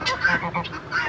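Çorum fighting geese on a poultry farm give a few short, nasal honks close by in quick succession, with some voices mixed in.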